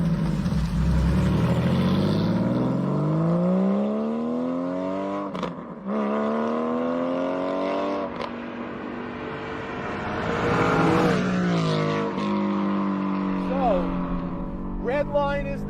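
A Porsche sports car with an 8,000 rpm redline climbs a damp mountain road, its engine close and loud as it rises and falls through repeated revving sweeps and gear changes, with talking over it.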